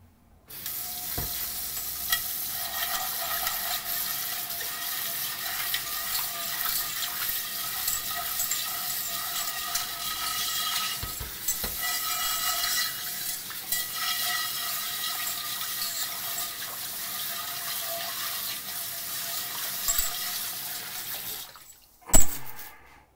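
Lodge cast iron cornbread pans being washed in a kitchen sink: steady running tap water with scrubbing and splashing for about twenty seconds, then the flow cuts off and a single sharp clunk of metal follows.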